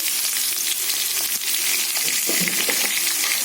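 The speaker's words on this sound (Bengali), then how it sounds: "খাসির মাংস বলে একটু ভেজে নিচ্ছি আলাদা।" Potatoes for a mutton curry fry separately in a pan with a little turmeric, giving a steady, loud, close sizzle throughout with faint stirring clicks and no talking.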